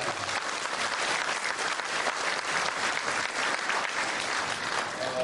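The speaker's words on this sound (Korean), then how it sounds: "큰 박수로 감사와 영광을 드립니다" Sustained applause from an audience at a Korean church council New Year thanksgiving service and banquet, dense and steady throughout at even loudness.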